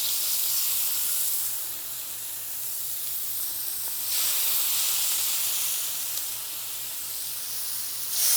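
Chicken sizzles in an oiled pan with a continuous, close hiss that swells and eases slightly over several seconds, with no talk.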